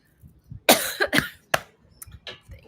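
A short burst of several harsh coughs close up, followed by a couple of smaller throat-clearing sounds in an otherwise quiet room.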